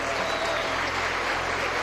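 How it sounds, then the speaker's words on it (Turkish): Sustained applause from a large audience of sports fans, a dense, even wash of clapping that holds steady throughout. "Taraftarlar bir alkış istiyorum"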